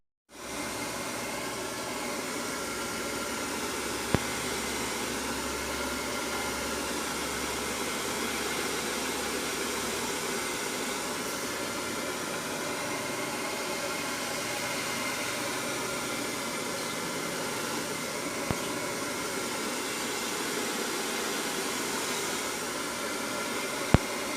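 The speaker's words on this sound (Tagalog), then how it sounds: "Kasi in-stop ko yung pagbo-blower." A blower runs loud and steady for the whole stretch, a dense broadband whoosh with no break, while a few faint clicks pop up here and there.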